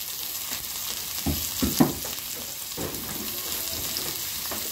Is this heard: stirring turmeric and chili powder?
yes